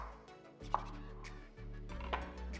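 A knife cuts very thin slices for topping breakfast toast, giving two sharp, close taps on the board over a steady low background tone.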